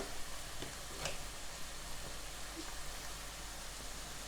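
Green plantains fry in oil, a faint, steady bubbling sizzle with soft scattered pops and crackles and no voices.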